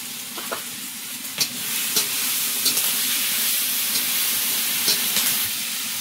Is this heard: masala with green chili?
yes